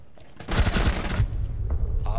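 Rapid automatic weapon fire rips out in a loud, dense burst during a Rainbow Six Siege match. Scattered quieter shots and game noise follow.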